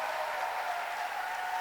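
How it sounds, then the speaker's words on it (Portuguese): Audience applause in a conference hall welcoming Pastor Aloysio Silva from Brazil, a steady, even wash of clapping that holds at a moderate level throughout without breaks. "Yo quisiera que le podamos recibir con un fuerte aplauso al pastor Aloysio"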